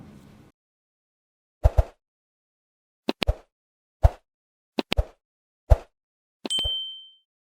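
A series of short plopping clicks, some in quick pairs, separated by silence, ending with a bright ringing notification-bell ding that fades out.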